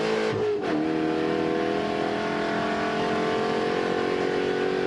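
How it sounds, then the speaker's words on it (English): A Spec Corvette race car at Buttonwillow Raceway Park drones loudly and steadily low in its rev range, a close, continuous engine tone with a brief change near the start and no talk over it. "hear that car is just so low in the rev range"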